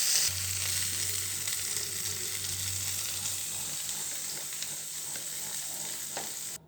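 Ivy gourd (kundru) fries steadily in hot oil in a pan, a loud, continuous sizzle close by with faint stirring scrapes and a low hum underneath, no voices.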